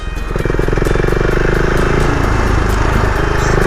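Close and loud, the single-cylinder engine of a Husqvarna Vitpilen 701 pulls under throttle while riding, its throb swelling over the first moments and then holding a steady, rhythmic beat.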